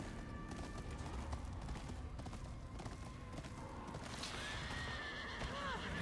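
A horse neighs in the video game Ghost of Yotei, a rising whinny near the end over a busy, noisy game mix with hoofbeat-like thumps, fairly faint overall.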